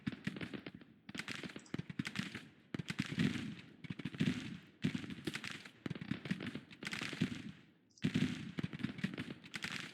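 Artillery bombardment in a Civil War strategy game, rapid repeated cannon booms and crackling volleys in irregular clusters with brief gaps, fairly faint overall.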